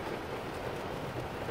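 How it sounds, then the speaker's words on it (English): Heavy rain pours steadily outdoors during a road trip, a dense, even hiss that stays constant throughout with no talking. "But oh, it's raining, it's pouring."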